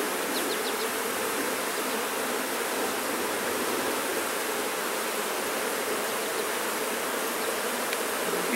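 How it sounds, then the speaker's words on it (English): Honeybees swarm around an opened hive in a failed double split, filling the air with a dense, steady, close buzzing hum that never lets up, with no voices over it. "The bees don't get happy when you drop them."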